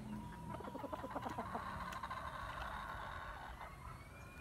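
Hens on a game farm cluck softly in a steady, busy pattern against a constant background hum, close by with no one talking.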